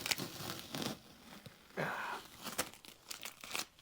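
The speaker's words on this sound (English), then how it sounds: "see it skinning over when I pull the tape off" Masking tape peeled off fresh seam sealer during cab corner rust repair on an old-body-style Ford truck, producing crinkly tearing and crackling bursts at close range, in uneven spurts with brief pauses.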